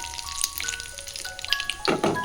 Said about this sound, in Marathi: कडीपत्ता जिरं मोहरी हे सगळं क्रिस्पी झालं आहे